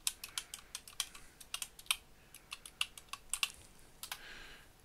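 Fingers type a password on a computer keyboard, a quick irregular run of about two dozen light clicks in a quiet room, with no talking.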